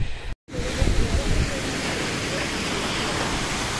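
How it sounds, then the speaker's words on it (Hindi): Vasudhara waterfall near Badrinath, water plunging from a great height, makes a loud, steady broadband roar close by after a brief dropout at the start, with a voice speaking faintly over the rushing water. "लेकिन बहुत तेज़ आवाज़ आ रही है ऊपर से पानी गिरने की."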